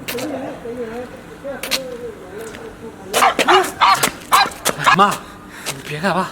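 A dog in a nearby village barks in a rapid series of sharp yips and woofs, close and loud, mixed with people talking over and between the barks.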